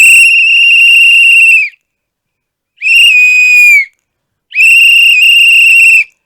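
Three long, loud whistle blasts, a shrill steady tone, each lasting one to two seconds with short silences between, standing alone with no voices; the whistle is the election symbol of Vijay's TVK party in Tamil Nadu.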